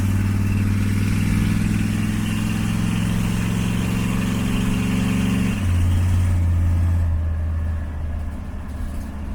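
A 1933 Chevrolet hot rod bus cruising at highway speed, around 65 mph, with a loud, steady low engine drone that shifts pitch midway and eases slightly near the end.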